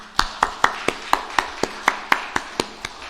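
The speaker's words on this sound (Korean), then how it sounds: "하나님 앞에 감사 박수 한번 합시다" A church congregation claps in unison in thanks to God, about a dozen evenly spaced sharp claps in a steady rhythm, fairly close, with no talk over them.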